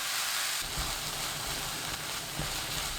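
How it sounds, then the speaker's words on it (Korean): Potatoes, onion and beef stir-frying in oil in a pan over high heat, giving a steady close sizzle and hiss with a few soft clatters from stirring. "2분이 지나면 소고기 넣고 센 불로 3분 30초 볶아주세요."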